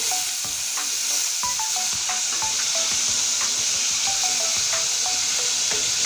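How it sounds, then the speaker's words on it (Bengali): Bam fish fries in hot oil for a Bengali fish curry, giving a continuous loud, close sizzle with occasional scrapes and taps of a utensil in the pan. "মাছটা বেশি ভাজবো না তাহলে শক্ত হয়ে যাবে অল্প ভেজেই নামিয়ে নেব"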